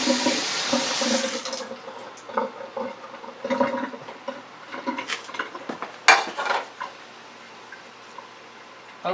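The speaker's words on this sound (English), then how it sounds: "And the plate I'd like to rinse off." A plate rinsed under a running kitchen tap during seafood filleting, with a strong gush of water at first followed by intermittent splashing, dish clatter and small clinks close by.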